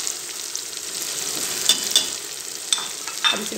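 Eggplant and potato pieces fry with spices in a pan, a continuous bright sizzle close by with several sharp stirring clacks from a spoon, no talking.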